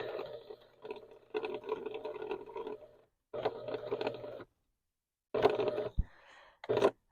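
A domestic sewing machine runs in bursts, stitching single fold binding onto a quilt; the motor's whirring hum starts and stops several times with short pauses, close and fairly loud.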